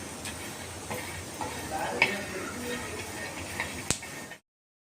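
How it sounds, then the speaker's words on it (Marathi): Peanuts dry-roast in a pan while being stirred, with light scattered ticks and scraping over a faint sizzle and a few sharp clicks, fairly quiet and close before cutting to silence. "त्याच्यातच आपण चांगले मस्त खरपूस भाजून घ्यायचे शेंगदाणे"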